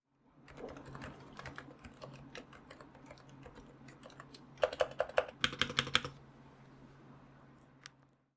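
Muted, soft typing on a Topre silent keyboard, a steady patter of quiet keystrokes that briefly grows busier, with a low hum underneath.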